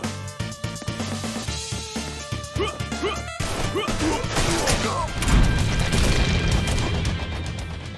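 Enemy artillery shells a team in a 2D run-and-gun video game, with rapid crashing explosions and gunfire hammering over a loud game soundtrack, the blasts swelling into a dense, rumbling barrage toward the end.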